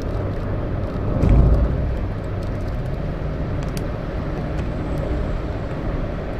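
Engine of a 2018 Toyota Agya G 1.2 VVTi automatic with TRD trim pulling in third gear on a toll road, a low droning rumble that swells briefly near the start and then holds steady under road and cabin noise.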